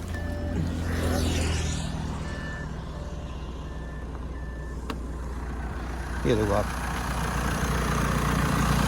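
A 2013 Audi A6 2.0 TDI diesel sits idling after starting, giving a steady low engine hum with a few faint beeping tones and someone talking over it.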